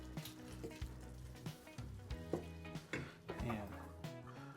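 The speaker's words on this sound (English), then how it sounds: "Give that a stir." Spiced food cooks in a pot, with a spoon stirring it near the mic. It gives scraping, clinking strokes over a quiet continuous sizzle and a low hum, and nobody talks.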